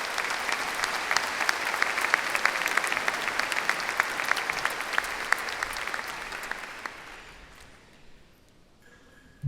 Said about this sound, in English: Please join me in a round of applause for our trustees.